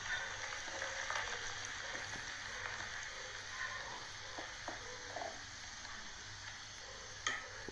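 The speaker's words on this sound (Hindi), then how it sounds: "और फिर मैं उसमें डालूंगी धनिया, हरी धनिया, और मैं उसको थोड़ा पलटे से हिलाऊंगी" Green coriander being stirred with a spatula in a frying pan over a low flame, while a matar paneer curry without onion or garlic is cooked: soft scraping and light sizzling, with occasional small clicks of the spatula against the pan.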